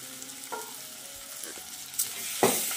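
Ground masala paste is stir-fried in a pan, giving a soft sizzle broken by a few scraping stirs and clanks. The last near the end is the sharpest. No one speaks.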